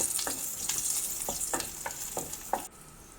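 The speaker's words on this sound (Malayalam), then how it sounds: "തേങ്ങ ഇട്ടൊന്ന് നന്നായി വഴറ്റിയെടുക്കണം" Grated coconut is sautéed with chili and curry leaves for koottukari. A soft, steady sizzle is broken by a regular run of spatula scrapes, about one every third of a second, ending with a sharp clack.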